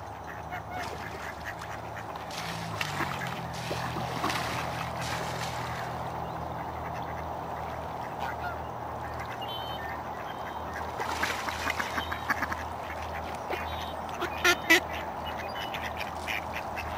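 Geese and ducks honk and quack at a park on Minto Brown Island in Salem, Oregon, with steady calling throughout, a few louder nearby squawks near the end, and a constant low background hum.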